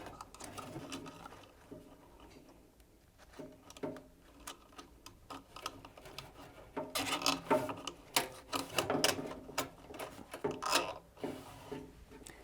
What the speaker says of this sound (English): So first we can attach the belt to the pulley using the cable tie.